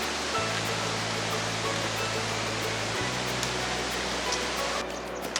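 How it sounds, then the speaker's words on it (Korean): Water flowing steadily through a Himalayan mountain valley, a continuous broadband rush at moderate level with no voices, accompanied by a low steady hum throughout. "계곡 물소리를 들으며 걸었습니다"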